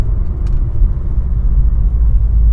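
A 2006 Mercedes-Benz CLK 500 convertible with AMG package cruising on the road, its deep engine and road rumble loud and steady, with no talk over it.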